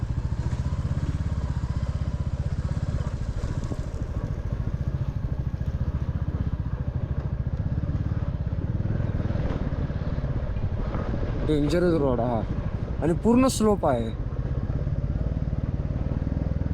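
A vehicle engine-brakes in first gear down a steep mountain road between Dharchula and Gunji, giving a steady low engine drone throughout while someone talks over it.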